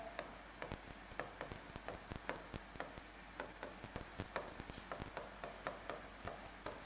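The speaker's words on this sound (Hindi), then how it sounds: "एक बार लिख देता हूं।" Marker or chalk strokes on a classroom board during a Hindi grammar lesson, a steady series of short scratchy taps and squeaks repeating about every half second, close and clear with no talking.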